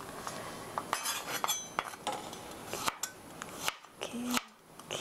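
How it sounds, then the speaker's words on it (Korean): A knife thinly slicing garlic cloves on a cutting board for spaghetti aglio e olio. Close, irregular crisp taps and chops follow one another in quick succession, with no talk. "편으로 썰어 주시고요."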